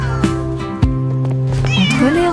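A kitten meows repeatedly and loudly up close in an animated children's story about a palace, several drawn-out mewing cries with sliding pitch, with a faint voice in the background.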